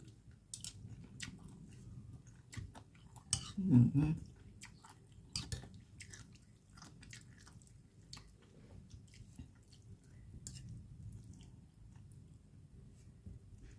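Jellyfish salad spiced with chili being eaten: soft, wet chewing and squishy bites close to the mic, with one louder moist bite partway through and otherwise steady, quiet mastication, no talking.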